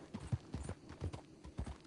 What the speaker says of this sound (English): On a regular horse I ride